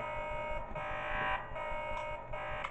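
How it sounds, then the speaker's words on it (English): A buzzing electronic alarm drones continuously in the Five Nights at Smudger's 2 Remastered video game, loud and steady with a slightly pulsing tone. "Turned off the alarm."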